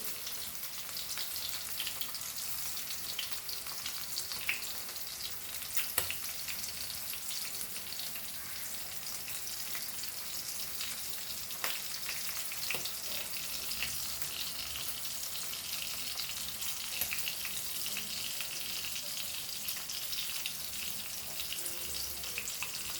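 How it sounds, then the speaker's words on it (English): Rava-coated prawns fry in hot oil in a pan over a medium-low flame, a steady, dense crackling sizzle that holds evenly throughout with occasional sharper pops. "we'll fry it to golden color fry"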